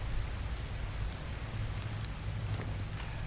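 Steady rain falls in the jungle survival game Green Hell, a dense, even hiss of drops on foliage and ground with no voices over it.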